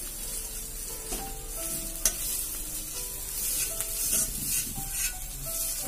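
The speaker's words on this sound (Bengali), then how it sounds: "আর একটু ভালো করে ভেজে নিচ্ছি।" Cumin powder and spices fry in a pan for a prawn curry with yogurt, a steady close sizzle with occasional scrapes and clinks of stirring.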